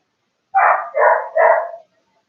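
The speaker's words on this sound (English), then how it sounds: "That is one of two neighbors' dogs." A neighbour's dog barks three times in quick succession, loud and close, each bark drawn out slightly, with silence before and after.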